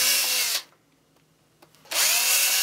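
Power drill boring holes through the center knobs of a bike tire to fit winter studs: two loud, steady whirring bursts, the first cutting off quickly and the second starting after a quiet gap, with no talk.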